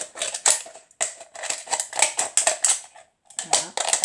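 Large scissors snip through a thin aluminium drink can, a run of sharp, close metallic crunches and clicks in quick bursts with a short pause near the end.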